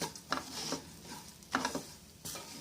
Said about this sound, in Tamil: இந்த ரவையை போட்டு இப்படி நம்ம கொஞ்சம் நேரம் சூடுபட வறுத்துக்கணும்